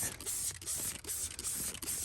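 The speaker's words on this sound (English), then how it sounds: "you go ahead and spray the product on it" Mould cleaning product sprayed onto a car's interior surfaces, heard as steady, close hissing spray bursts that run almost without pause, with no talk over them.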